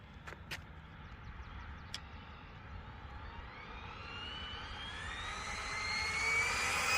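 Arrma Mojave 6S RC car at full throttle, a high electric motor whine rising steadily in pitch and loudness as it speeds away outdoors, with a few sharp clicks early on.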